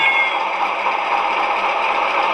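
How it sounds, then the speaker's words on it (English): A steady mechanical whir and hum from a model train engine sound effect runs continuously at an even level, with no talking over it. "Engine sound too."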